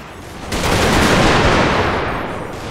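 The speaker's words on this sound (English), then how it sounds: "As you can hear here, the shots already going off." Dense musket volleys crackle continuously in a Total War battle of the American Civil War (Battle of Franklin, 1864), loud, overlapping shots building into a sustained roar of gunfire with no speech.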